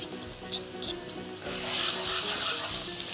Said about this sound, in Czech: Cibuli zarestujeme do sklovata.